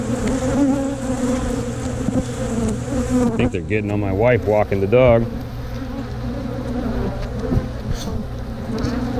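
Honey bees buzz loudly right around a beekeeper's face at an open hive, a dense droning hum with someone speaking briefly over it.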